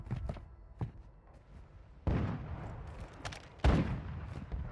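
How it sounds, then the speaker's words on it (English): Sniper fire in Warzone 2, with a few heavy, sharp shots spaced a second or two apart over a murky background of in-game ambience and movement. "I see the gunfire and I hear the sniper"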